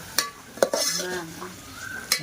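Vaseti bhaji being stirred in a pan with garlic chili, a few sharp utensil scrapes and clinks against the pan over a soft, steady sizzle.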